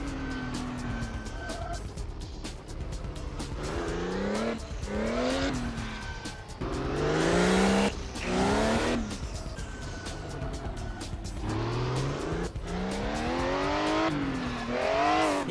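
A Porsche 935 races around a vintage-style track in a video game, its engine rising and falling through repeated gear changes, with bursts of tire squeal in the corners, loud and up close throughout, with no talking.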